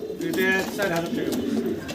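Pigeons at a farm coo in soft, throaty rolling calls, close and continuous, with a voice talking over them.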